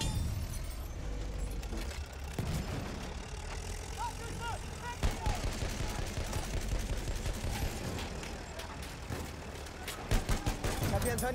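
Machine gun fire crackles in Battlefield 1 as rapid gunshot bursts and scattered sharp reports ring out across a busy battlefield, layered over a constant rumbling din and fairly distant-sounding combat.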